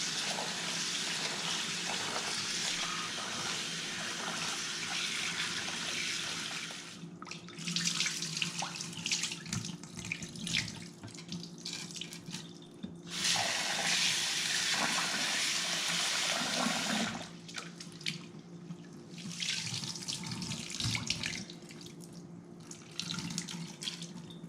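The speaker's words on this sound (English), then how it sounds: "I have 2 cups of basmati rice, and we are going to wash it to remove some of the starch." Two cups of basmati rice washed under a running kitchen tap, steady rushing and splashing water close by that stops and restarts a few times as the tap is turned off and on.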